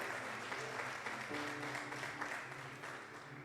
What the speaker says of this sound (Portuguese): Dê um aplauso a ele porque ele merece.